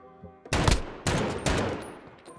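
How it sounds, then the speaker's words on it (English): MP5 submachine gun bursts in Call of Duty: Modern Warfare, two loud rapid-fire bursts about half a second each, close and punchy, separated by a brief gap and trailing off with fading echoes. "now we are going to be using the MP5, which is honestly a really cool submachine gun in this game"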